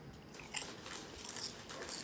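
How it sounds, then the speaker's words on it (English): Someone crunching on chips close to the mic, sharp brittle bites followed by soft chewing crackles, fairly quiet with no talk. "Y'all hear me crunching on these chips?"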